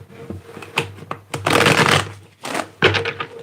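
Tarot cards being shuffled by hand: a few quick riffling flicks, then a longer, denser burst of shuffling, followed by more short riffles, close and fairly loud with no talk.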